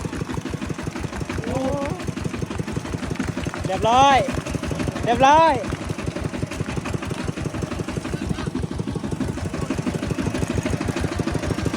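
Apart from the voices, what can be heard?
tractor engine idling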